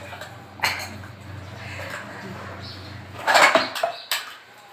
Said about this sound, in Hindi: अब मैं करती बर्तन साफ।